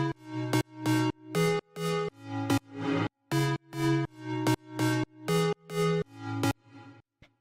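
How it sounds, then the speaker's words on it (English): Basic FM synth chords built from square and sine wave oscillators, stabbing in a steady rhythm of about a dozen short sustained hits with clean gaps, loud and alone for a future house track. "The next layer I'm going to show you are these chords, which sound like this."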